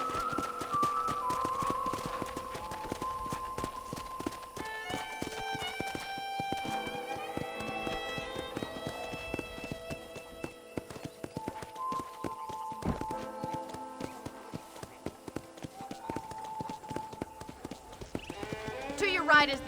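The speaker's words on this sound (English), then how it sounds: "I picked out a fine horse for you." Horse hooves clip-clop at a walking pace in Red Dead Redemption, a steady light rhythm set under music and a talking voice, with the occasional whinny.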